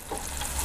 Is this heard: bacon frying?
yes